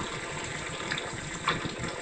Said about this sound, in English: Now pour in the hot water.